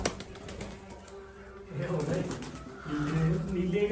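Pigeons coo in low, soft, repeated calls close by, with a voice talking over them and a brief flutter of wings.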